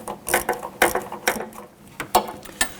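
A 3/8 ratchet tightens a front sway bar bushing bolt on a Jeep Patriot, giving a series of sharp, close clicking bursts in an uneven rhythm, about seven quick pulls, heard alone.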